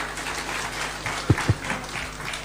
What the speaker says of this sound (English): Another round of applause for the principals, please